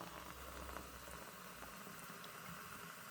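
Carbonated Sprite and tea drink fizzes in a glass, a dense, quiet crackle of popping bubbles that continues steadily up close with no voices.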